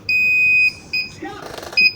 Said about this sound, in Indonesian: Saya menambahkan buzzer sebagai bunyi.